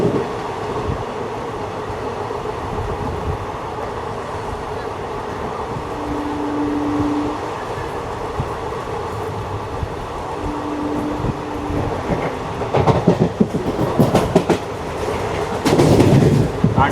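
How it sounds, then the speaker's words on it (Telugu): A special passenger train running from Bengaluru to Narasapuram gives a steady, loud rolling rumble with rhythmic wheel clatter on the rails. The noise grows rougher with heavier knocking bursts toward the end. "బెంగళూరు నుండి నరసాపురం వెళ్ళే స్పెషల్ ట్రైన్ ఇది."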